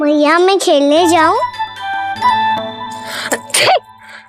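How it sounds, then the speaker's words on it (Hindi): A child sneezes twice in quick succession, loud and close, then speaks briefly, with a faint tinkling and an adult voice later in the scene. "अभी छींक आई ना"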